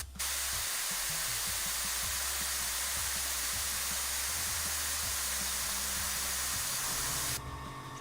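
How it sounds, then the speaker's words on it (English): An airbrush sprays in a continuous steady hiss while an air compressor pulses and chugs underneath, the compressor kicking back on near the end as tank pressure drops; no one speaks. "So 10 seconds of airbrushing and the compressor's back up."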